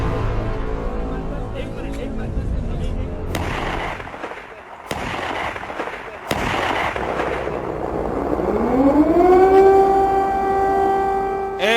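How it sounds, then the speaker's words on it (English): Air raid sirens wail over Kyiv at the start of Russia's full-scale invasion of Ukraine, a loud rising tone swelling in the latter half after sharp bangs and rumbling, with voices talking in the background. "Air raid sirens go off in Ukraine's capital Kiev as Russia launches a full-scale invasion of Ukraine."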